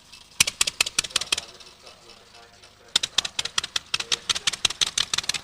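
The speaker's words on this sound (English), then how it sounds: "the crowd's attention turned to the sound of sputtering engines" Vintage Deperdussin and Blériot pioneer aircraft at a 1999 British airshow, their old engines sputtering in uneven bursts of sharp popping beats. The beats pause for a moment, then resume in a steadier rapid rhythm.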